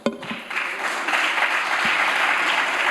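Clapping in the Spanish parliament during a censure motion debate starts with a few claps and swells into sustained, dense applause from many hands that continues to the end.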